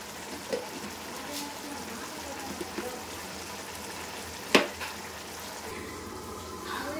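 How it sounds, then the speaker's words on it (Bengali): Gathi kochu (taro) for a prawn dalna cooks on a low flame, a soft, steady sizzle close by. A sharp clatter of utensils cuts in midway, with a few lighter knocks around it. "এই কচুটাকে আমি একটু লো ফ্লেমে কষানোর জন্য রেখে দিলাম।"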